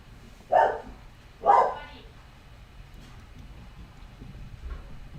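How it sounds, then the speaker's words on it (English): A dog barks twice in quick succession, sharp and fairly close, then faint household noise and a soft distant yip follow. "there goes my dog again. Barking at nothing"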